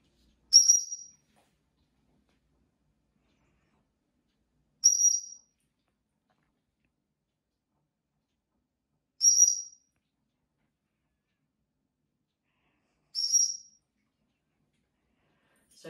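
Four short, high-pitched dog training whistle blasts spaced about four seconds apart, each clear and sharp, with silence between them.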